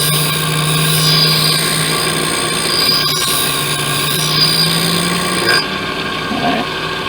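A blade is ground on a sharpening machine, giving a loud, steady, whining grind with sustained high tones that shift slightly as the blade is passed across, and then eases off near the end.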